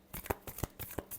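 Tarot cards are shuffled by hand in quick, evenly spaced riffling bursts, about six crisp flutters close to the microphone with no talking.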